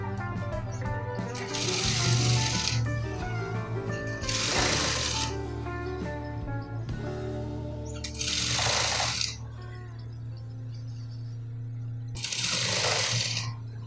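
Sewing machine stitching neck piping on a garment, quick mechanical bursts that start and stop several times over a steady low motor hum, fairly close.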